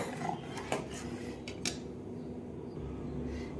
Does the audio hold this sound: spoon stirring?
yes